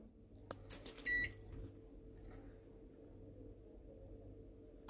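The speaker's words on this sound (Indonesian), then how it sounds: "terus aku tinggal masukin ke microwave" A microwave oven heats oatmeal with milk, with a few sharp beeps and door clicks at the start, then a low steady hum running quietly alone.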